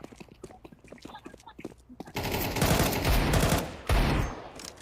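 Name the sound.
gunfire in a shooter video game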